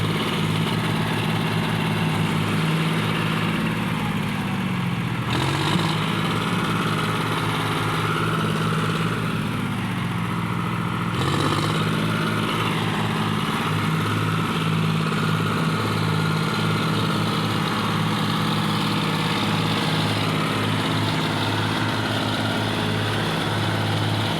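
A farm vehicle engine drones steadily and loudly while driving through a muddy rut in a field, its pitch dipping twice as the load changes, with no talk over it.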